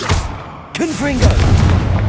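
Confringo fire spell explosions in the Hogwarts Legacy video game: a loud low boom, then a short cast of voice, then another heavy blast rumbling under it, booming close and strong.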